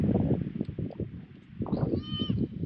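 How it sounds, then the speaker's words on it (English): A goat bleating near a river in a Sri Lankan jungle, a short wavering cry rising over a busy, noisy background with other sounds. "We got closer and realized it's a goat."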